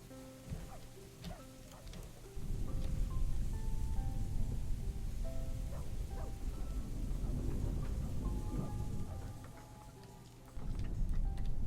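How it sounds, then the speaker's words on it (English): Rain falls in the video game Rise to Ruins, a faint steady patter with soft ticking and low rumbles under quiet game sounds, dropping away briefly before returning. "rains all night, huh?"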